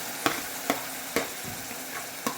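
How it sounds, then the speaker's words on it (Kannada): Tomatoes tipped into a pan of finely chopped frying onions give a steady low sizzle, broken by a few sharp stirring clacks at roughly half-second intervals. "ಈಗ ಟೊಮೆಟೊ ಹಾಕ್ತಾ ಇದ್ದೀನಿ"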